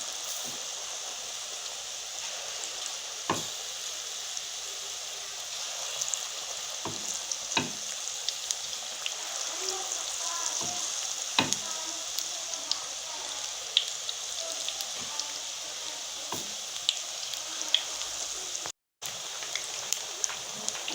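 Sweet gulgule pakoras made of batter fry in hot oil with a continuous fine sizzle and crackle. Occasional sharper pops and clicks come through, and no voices are heard.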